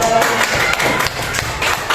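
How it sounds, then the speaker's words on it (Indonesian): Class of students clapping hands in a classroom during an animal lesson, a short burst of close, rhythmic group claps with some thumps. "Tepuk tangan untuk kita semua."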